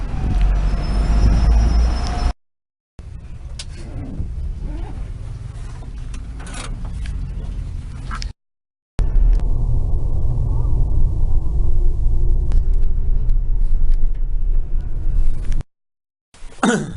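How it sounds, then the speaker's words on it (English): A long Megabus coach engine rumbles on a road journey from Newcastle to Birmingham, England, a loud steady low drone with road noise, broken by a few brief silent dropouts. "Really long bus."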